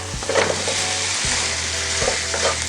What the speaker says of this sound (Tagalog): Gigisa lang po natin yan ng mga ilang minuto muna bago natin lagyan ng sabaw.